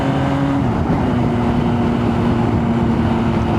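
MV Agusta Brutale 800 three-cylinder motorcycle engine pulling steadily while riding, a loud continuous drone whose pitch drops briefly as the revs shift, with steady wind and road roar underneath.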